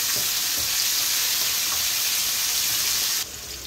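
Raw papaya frying in a pan, a loud, steady sizzle running evenly throughout with a slight drop at the end.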